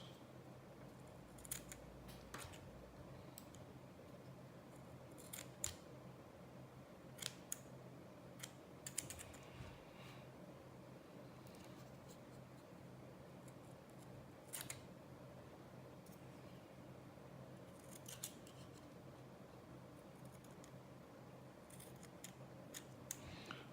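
Scissors trimming excess cotton wick on a vape coil, giving a few faint, scattered snips against a quiet room hum.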